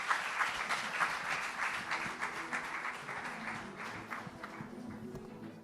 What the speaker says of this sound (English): A big round of applause to Renuka Shahane and Shreya Pilgaonkar.